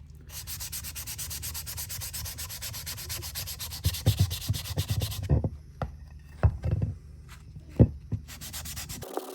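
Hand sanding of a solar light with 400 grit sandpaper: a steady close rasping scrub at first, then short irregular rubbing strokes separated by brief pauses, with the steady scrubbing returning at the end.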